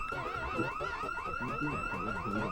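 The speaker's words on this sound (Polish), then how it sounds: "na sam start alarm się odpalił" Car alarm going off in the Project Zomboid zombie survival game, a loud, steady warbling siren that sweeps up and down in repeating cycles with no talk over it.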